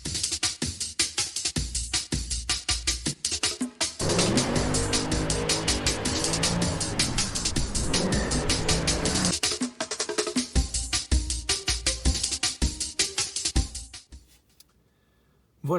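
A car is driven on a road journey, with steady engine and road noise that fluctuates and then fades out near the end.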